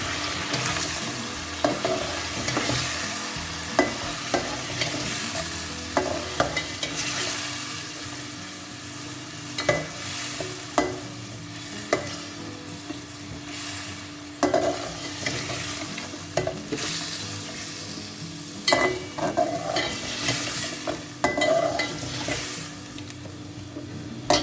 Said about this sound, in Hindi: दही डाल के अब इसको पकाएंगे,